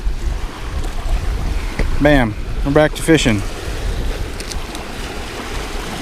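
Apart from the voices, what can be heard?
waves crashing on the bank while fishing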